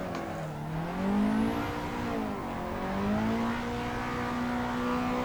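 Simulated car engine revving while drifting in the racing game Assetto Corsa, a loud, rising and falling engine whine that climbs, dips, then climbs and holds high as the car slides.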